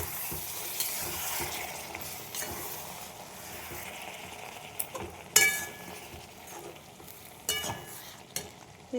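Fried fritters tossed into hot ghee in a pan for banana-flower curry, a continuous sizzle with stirring, a few sharp clinks and scrapes of a utensil against the pan.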